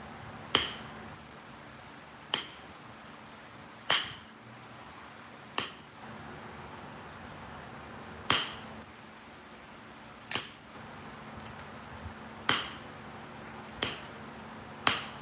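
Sharp stone-knapping strikes with a steel tool knock flakes off a stone edge, about nine crisp clicks spaced a second or two apart, each with a brief ringing decay over quiet background.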